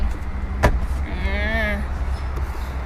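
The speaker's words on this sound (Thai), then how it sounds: "ประตูดูดทั้งซ้ายและขวานะคะ" Power sliding door on a 2014 Hyundai H-1 Deluxe diesel van with a 2.5-litre engine: a sharp click, then a rising electric motor whine as the door slides, close by, with faint vehicle noise around it.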